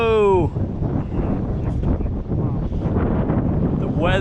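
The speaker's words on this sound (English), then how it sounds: "here comes the wind" Strong storm wind buffets the microphone on a small fishing boat out on open water, a steady loud roar that starts abruptly and persists, with brief voice sounds at the start and end.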